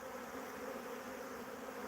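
Honeybees hum in a steady, continuous drone, fairly faint and even, with no voices over it.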